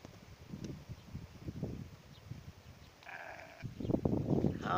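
A freshly shorn ram and other sheep bleat on a farm, several short, fairly faint bleats spread across the moment amid rustling outdoor background.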